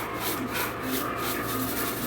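Roasted coriander seeds and spices stirred together by hand for kuzhambu powder, a continuous dry rustling and scraping at close range, even in level without pauses.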